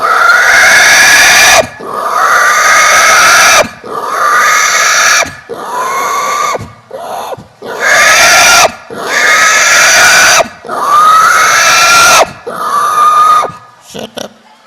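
A man mimics a pig squealing as if being slaughtered, on stage at a comedy Bihu program, with loud, piercing, drawn-out squeals repeated about seven times in short bursts separated by brief pauses.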